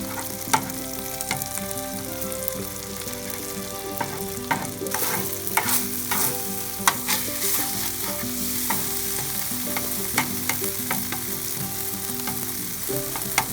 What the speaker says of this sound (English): getting them eggs all scrambled up and looking good